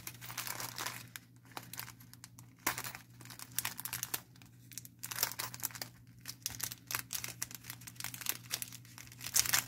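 A mail package holding flower-shaped buttons is opened by hand, giving close, irregular bursts of crinkling and tearing packaging throughout, with no talking.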